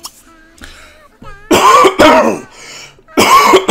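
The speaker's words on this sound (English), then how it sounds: "I keep coughing here." A man coughs and clears his throat in a few harsh bursts, close and loud, separated by brief quiet gaps.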